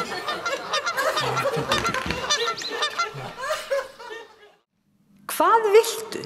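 Geese honk in a busy, overlapping cluster that fades to near silence. After the pause, a sharp new burst of loud honking follows.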